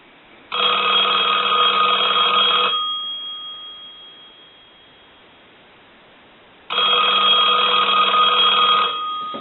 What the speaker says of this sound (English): So now we can go ahead and ring this telephone.